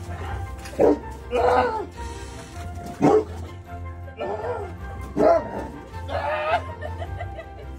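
A dog barks repeatedly in a garden, several loud, close barks and yips spaced across the span over a low steady background rumble.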